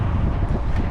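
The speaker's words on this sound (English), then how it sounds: "It might be slightly windy" Steady low rumbling wind buffeting the microphone outdoors beside a 2024 Hyundai Venue, constant throughout with no voices.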